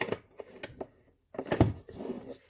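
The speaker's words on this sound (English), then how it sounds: "And I am going to shuffle." A Tarot of the Divine deck by Yoshitani is shuffled by hand, giving a series of soft, close papery riffles and taps. A brief pause breaks the shuffling before a denser burst of card noise.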